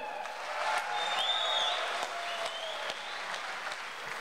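An audience applauding to welcome guests at a forum on the shore of Issyk-Kul, steady clapping from a crowd heard at moderate distance, continuing throughout.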